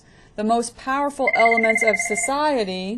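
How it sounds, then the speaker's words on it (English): A phone rings briefly with a steady electronic tone beneath a lecturer's ongoing speech in a talk on the Constitution. "that's my phone, so let's hold on for 1 second"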